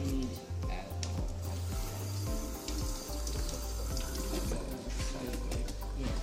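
Leeks being rinsed under a running kitchen tap, a steady close splash and rush of water into a sink that goes on throughout, with faint voices in the background.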